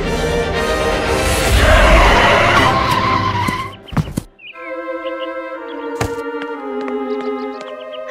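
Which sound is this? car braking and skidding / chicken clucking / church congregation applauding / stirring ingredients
car braking and skidding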